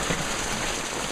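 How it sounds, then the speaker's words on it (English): A heavy rain downpour pours down outdoors around a barbecue smoker cooking pork side ribs, a thick, steady roar of water close by with no breaks. "As you can tell, we have a major downpour going on here."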